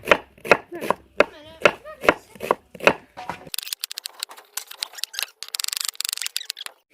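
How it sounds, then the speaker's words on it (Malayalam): Onions being chopped with a knife on a board for a bachelor-style chicken curry, a fast run of sharp, close, crisp knife taps after someone speaks briefly. "നമുക്കിനി സബോള അരിയാം"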